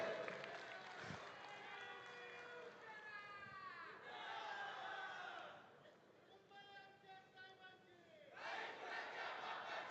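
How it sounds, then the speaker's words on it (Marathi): Mahim supporters at a Shiv Sena rally in Worli roar and cheer as a dense crowd, with shouted chants rising and falling over steady clapping and babble, loud throughout with a brief dip before swelling again. "चला माहीमच्या लोकांचा आवाज ऐकू द्या, टाळ्या वाजून ऐकू द्या."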